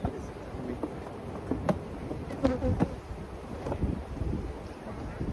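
Honey bees buzz in a steady swarm around a hive being split outdoors, a dense close drone with light wind rumble and a few faint handling knocks, while people talk briefly nearby.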